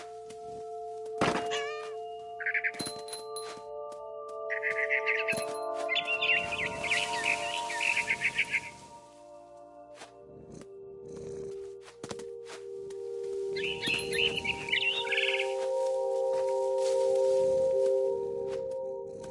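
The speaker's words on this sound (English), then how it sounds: "Then I heard chirping outside my window. It was a barn swallow going back to her nest." In the video game What Remains of Edith Finch, a barn swallow gives several quick bursts of bright chirps, sometimes alone and sometimes in short runs. A steady musical drone plays underneath, with a few meow-like cat calls mixed in.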